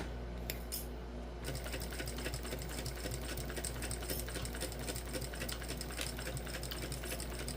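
A sewing machine stitches a crossbody bag with a long stitch length, producing a steady, close, rapid clatter that runs almost without pause, quiet overall and with no talking.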